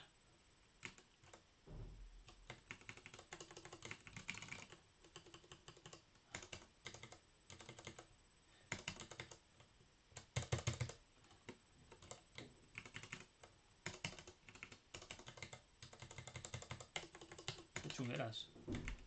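Clattering keystrokes on a computer keyboard come in quick uneven bursts with short pauses, close and fairly quiet.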